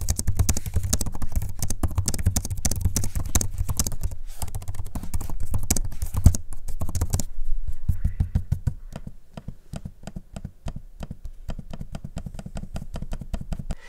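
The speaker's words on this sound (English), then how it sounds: "here's a quick audio sample of both the keyboard and the trackpad in use" Keyboard and trackpad of a Lenovo Legion 5i Pro laptop in close-up: fast, dense key-tapping for several seconds, then lighter, sparser clicks and taps, with no talk.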